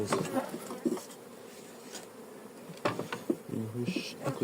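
Honeybee colony humming around a hive with a half-frame of wax foundation, a low insect drone with louder close passes of individual bees, no speech.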